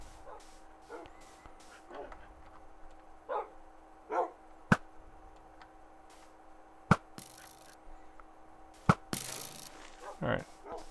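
Dogs in an Adventure Time video game bark and yip in scattered short bursts over a steady electronic hum, with sharp clicks and game effects between the barks.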